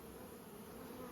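Honey bees swarm an open hive frame during the addition of honey supers in good weather at Nymboida, giving a dense, continuous close-up buzz with no talking.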